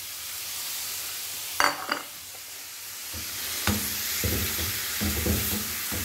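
Liver frying in a pan with crushed red chili, turmeric and salt, with a steady sizzle broken by a few sharp stirring scrapes and clinks of a utensil against the pan.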